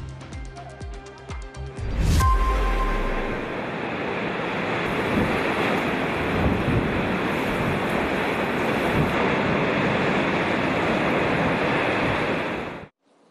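Storm waves crash continuously on a coastline as strong wind roars, a loud, dense wash of surf and gusts that runs steadily for over ten seconds before cutting off abruptly.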